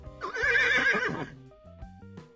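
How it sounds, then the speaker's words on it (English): A horse neighs in a loud, whinnying burst lasting about a second, then fades into quieter tonal game sounds. "Horse"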